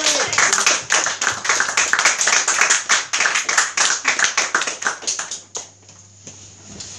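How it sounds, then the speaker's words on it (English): An audience claps for a performer at a poetry cafe in Soho, London, a dense burst of close hand claps that thins out and fades to a few scattered claps before stopping. "Can we have a big round of applause for the wonderful PJ?"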